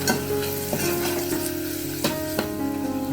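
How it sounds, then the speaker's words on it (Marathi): Spices for dal khichdi fry in a pan while a spoon stirs them, with scraping strokes over a steady sizzle and a tonal hum underneath. "फ्राय होताना ना आपल्याला थोडी काळजी घ्यायची की खाली लागणार नाही करपणार नाही तसंच थोडंसं हलवत राहायचं"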